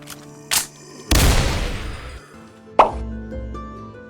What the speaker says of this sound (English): the HK-G28 doesn't have switchable modes, but fires really fast